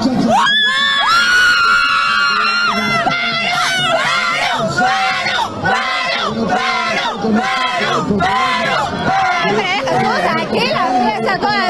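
A large crowd of Peruvian football fans in a city plaza chants and shouts in unison to celebrate Peru's victory, loud and continuous, with rhythmic group cheering and mixed voices throughout.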